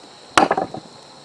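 A hammer knocks a notch off a piece of wood for a tipi lacing pin, with two sharp, loud strikes about a second apart and a short clatter of smaller knocks between them.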